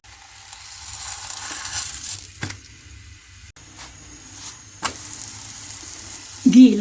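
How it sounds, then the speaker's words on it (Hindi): Ghee sizzles on a hot tawa for gur paratha, a soft close hiss broken by a few short scraping knocks and a brief louder clatter near the end. "घी लगाएंगे।"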